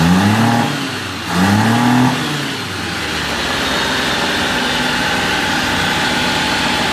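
1988 Suzuki Carry DB71T small engine running with its timing off, two brief revs early on before it settles into a steady, close idle hum.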